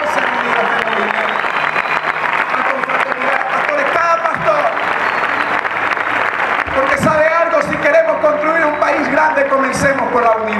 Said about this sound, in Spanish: Vamos a dar un fuerte aplauso por la vida de los pastores de la ciudad